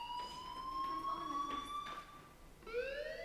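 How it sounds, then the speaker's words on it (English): A fire alarm rings inside the video game Life Is Strange, a steady electronic tone that holds for a few seconds at moderate loudness, then shifts to a higher, brighter wail near the end. "Hey, do you hear that fire alarm? That means you should be outside."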